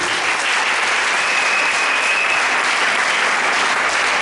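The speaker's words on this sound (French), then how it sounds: "Si tu es d'accord, acclame Jésus." Church congregation applauding and cheering during a worship service, a dense, steady wash of clapping that fills the whole stretch without letting up.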